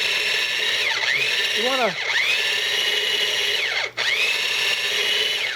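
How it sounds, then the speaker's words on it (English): A mini food chopper whirs as it grinds small shrimp, its motor humming steadily with a few brief pitch sweeps as it speeds up and slows down. A voice speaks briefly over it. "I've got my mini food chopper full of shrimp"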